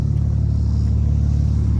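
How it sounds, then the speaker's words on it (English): Two BMW E90s, one a 2008 335i, idle side by side with their engines running, making a loud, steady low rumble with no change in pitch and no voices. "me and Izard's car are both running at the same time"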